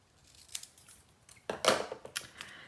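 Scissors cutting paper to size for a scrapbook page, a few quiet snips at first, then a louder close burst of crisp cuts and crinkles, ending in scattered soft snips.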